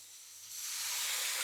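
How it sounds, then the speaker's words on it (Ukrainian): Dry white wine is splashed into a hot pan of sizzling aromatics for mozzarella-stuffed patties in cream sauce. A bright steamy hiss swells suddenly and holds loud and close. "Аромати пішли, додаємо трішки сухого білого вина."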